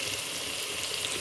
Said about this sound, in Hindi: यहाँ हम मज़ीद इसको भूनेंगे